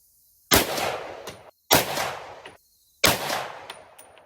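Three loud, sharp shots from a PSA 338 ARC pistol with an 8.5-inch barrel, fired at an outdoor range about a second apart. Each crack is followed by a long, fading echo.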